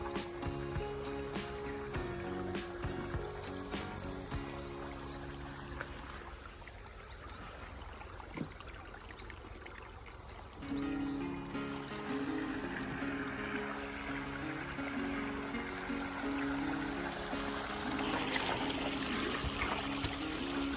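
Irrigation water running steadily through a drumstick tree field on a farm, a soft continuous trickle and gurgle with faint background noise, no talk.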